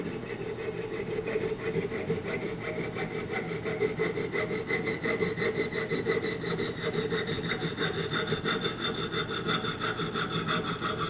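A hand saw cuts through a pewter casting, rasping back and forth in a quick, steady rhythm, a continuous gritty scraping close by with no talking.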